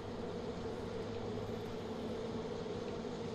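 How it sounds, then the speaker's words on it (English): A swarm of bees in the video game Far Cry 5 gives off a faint, continuous low buzzing drone that holds steady throughout, with no speech over it. "It sounds like a lot of bees."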